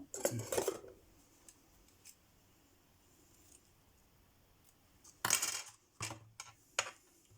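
Scissors snipping a notebook cover, a sharp cut near the start and another crisp cut with a few smaller snips later, close and fairly quiet over faint room noise.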